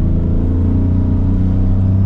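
A 2022 Toyota Yaris Cross Hybrid in power mode with traction control off, engine droning loudly and steadily under hard acceleration, close and unbroken.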